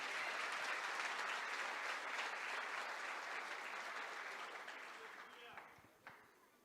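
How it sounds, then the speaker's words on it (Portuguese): A church congregation bursts into loud, sustained applause that holds steady for several seconds, then thins out and fades away, leaving a few scattered claps at the end. "Vocês podem aplaudir, glorificar o nome do Senhor?"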